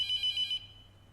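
A telephone rings in a horror video game, a thin electronic trill pulsing quickly for about half a second before cutting off, fairly faint over a low background hum.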